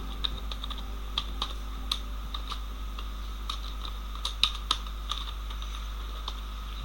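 A computer keyboard is used to type a field name into a database table in design mode: irregular, crisp keystrokes tap close by over a low, constant hum.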